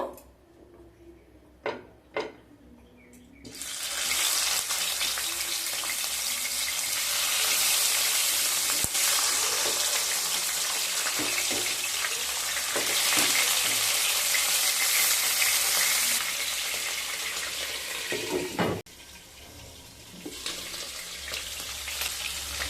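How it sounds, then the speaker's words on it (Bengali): Parshe fish frying in hot mustard oil, a few clicks and taps first, then a loud, steady sizzle that holds for many seconds, briefly breaks, and resumes. "এরপর মাছগুলোকে ভেজে নেব"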